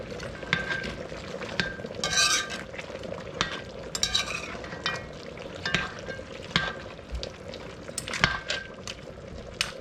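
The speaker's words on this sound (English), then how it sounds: "So we're gonna give the mutton curry the first stir now." Mutton curry stirred in a pot while the meat browns and releases its juices: irregular scrapes and clinks of a spoon against metal over a bubbling sizzle, close up and without speech.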